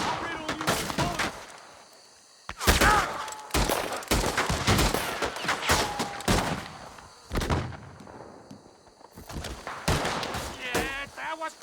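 Repeated bursts of gunfire in the Western video game Red Dead Redemption 2, sharp loud volleys broken by brief pauses across the shootout, with a shouting voice heard between shots.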